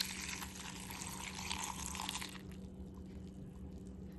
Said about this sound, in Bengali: এবার দুধটা ঢেলে দেবো।